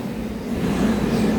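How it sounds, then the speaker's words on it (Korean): Subway train pulling into a platform, a loud swelling rumble with a steady low mechanical hum building as it nears, no talking. "가운데 가는 열차가 옵니다"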